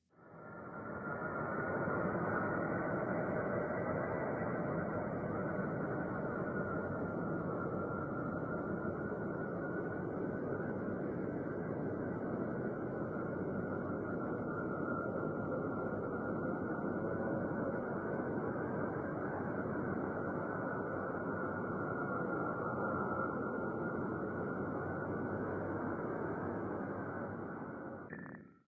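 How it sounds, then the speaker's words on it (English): Saturn's radio emissions converted to sound, a faint, steady, dense hissing drone with a wavering texture that runs unbroken for almost half a minute with no other sounds. "So let's listen to both the sound of Saturn and the sound of Saturn's rings."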